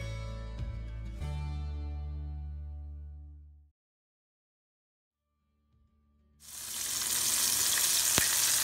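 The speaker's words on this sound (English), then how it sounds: "And I'm gonna get to frying them." Wild turkey cut into nugget-sized pieces fries in a fryer. A droning hum fades into a few seconds of quiet, then a loud, steady hissing sizzle of hot oil begins and continues without pause.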